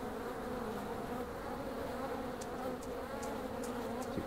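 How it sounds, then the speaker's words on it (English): Steady, dense buzzing of bees around hives in the video game Farm Together, a continuous droning hum with no pauses, plus a few faint clicks toward the end. "The hives now have bees and sound effects."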